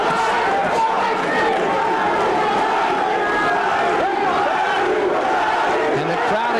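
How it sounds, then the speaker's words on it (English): Boxing-arena crowd roaring steadily for Mount Vernon native Larry Barnes during a bout against Glenwood Brown, a continuous noisy rumble of shouts with a commentator's voice talking over it. "And the crowd again, rooting for the Mount Vernon native Larry Barnes"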